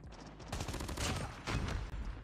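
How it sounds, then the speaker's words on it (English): Rapid gunfire in Call of Duty Mobile with the Damascus AK117, two dense bursts of shots crackling close together at fairly low volume. "Wait, who's shooting me?"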